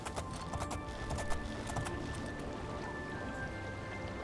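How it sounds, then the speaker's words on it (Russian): Horse hooves clip-clop steadily in the game Oblivion, a repeated clatter of footfalls mixed with a rain-like patter, fairly loud and with no talk over it. "эту лошадь обожаю все больше и больше"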